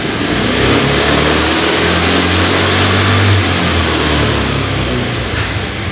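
A Honda Vario carburetor scooter engine, which has an electrical fault, revs loudly and continuously nearby, its tone rising and falling steadily with no voices over it.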